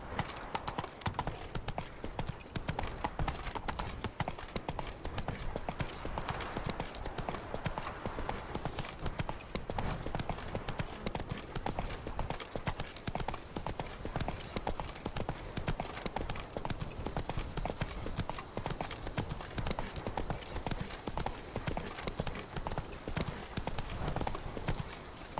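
Roach the horse gallops in The Witcher 3, hooves clip-clopping in a fast steady rhythm for a long stretch, close and continuous, with a brief whinny and occasional game voices mixed in.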